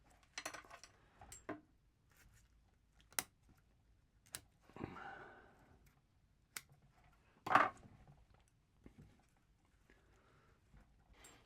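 Roots of a larch bonsai are snipped with shears, giving sparse, crisp individual clicks and cuts spaced a second or two apart against quiet background, with no voices.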